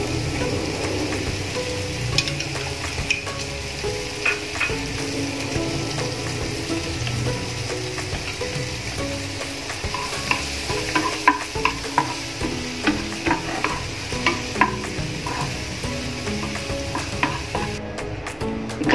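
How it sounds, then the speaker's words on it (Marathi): Finely chopped onion sautéing over low gas in a pan for spinach soup, a soft continuous sizzle broken by repeated scraping stirs and utensil taps, close up with no talk. "हा एक जो बारीक चिरलेला आहे कांदा, हा आपण परतून घेऊ।"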